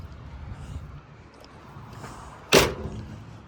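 The cab door of an SDLG TV1100H vertical-lift telehandler shuts with a single loud, solid slam partway through, after quiet outdoor background and faint handling sounds.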